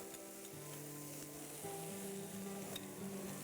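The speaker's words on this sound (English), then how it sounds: "basically what you're gonna do is you're gonna saute all of this together" Cabbage and carrots sizzle quietly in olive oil in a pan, a soft steady frying hiss with faint stirring taps and a low background hum.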